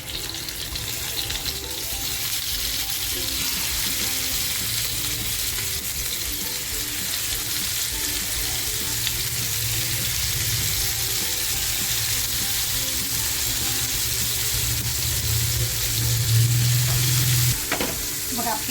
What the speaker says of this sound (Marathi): तर बघा आता तेलसुद्धा आपलं छान गरम झालेलं आहे तर असा एक एक पीस आपल्याला उचलून ठेवायचं आहे